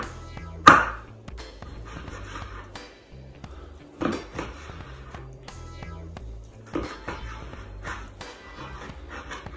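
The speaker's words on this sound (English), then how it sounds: "we're gonna cut into this brisket" A knife cuts into a roughly 13-pound smoked whole packer brisket from an Oklahoma Joe's Bronco smoker, making close, sporadic thuds, taps and soft slicing noises with quiet gaps between them and no talking.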